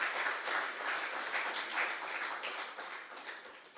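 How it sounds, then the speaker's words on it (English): An audience at a panel debate in Dubai gives a sustained round of applause, dense steady clapping at moderate distance that carries on evenly for the whole stretch without pause. "So I would like just now to give him a very big round of applause."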